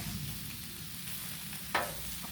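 Vegetable kabobs cook on a Blackstone griddle with a steady, close, low sizzle and a brief sharp scrape or clatter near the end, with no talking.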